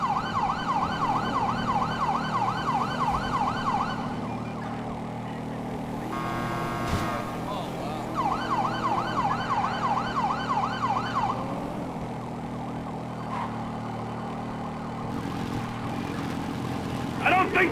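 Police sirens in a video game car pursuit through a tunnel wail continuously in rising and falling sweeps, alternating with rapid yelp bursts, over a steady engine drone and occasional voices.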